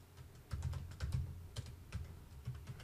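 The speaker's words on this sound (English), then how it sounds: "We type this command." Keystrokes typing a DOS command for a BIOS upgrade on a Supermicro SuperServer SYS-5028D-TN4T, clustered into short uneven bursts of close clicks across about three seconds, with no talking.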